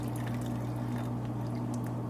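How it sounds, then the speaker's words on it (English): Liquid poured over the back of a spoon while making milk soap gives a soft, continuous splashing trickle that runs steadily under a constant low electrical hum, with no talking. "Pour it over the back of my spoon so it doesn't splash everywhere."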